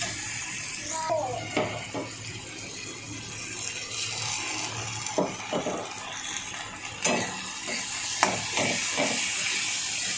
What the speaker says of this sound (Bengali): আমি এবার আদা পেস্টটা দিয়ে দেবো।